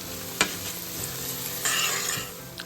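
Green chilies, chopped coriander and mint leaves being stirred into a sizzling biryani masala in a pan, with a steady frying hiss and a few sharp spoon scrapes, close and alone with no talk.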